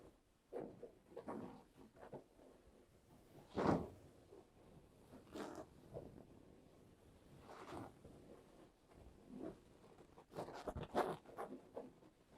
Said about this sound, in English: And then you can also scratch the fabric.